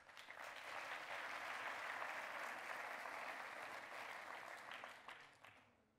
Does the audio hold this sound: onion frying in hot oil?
no